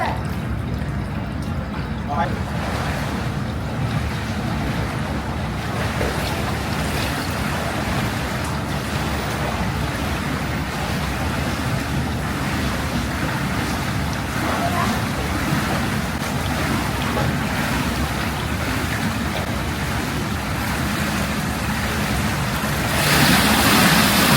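Rough sea waves slosh and break against a moving boat in a steady, loud wash mixed with wind buffeting the microphone, while people talk and call out over it.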